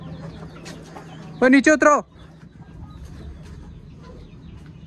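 Aseel hens in a mini zoo setup let out one short, loud, harmonic burst of clucking squawks in the middle, over a steady low hum, while someone talks nearby.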